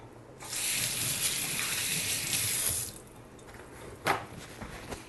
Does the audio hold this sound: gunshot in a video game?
no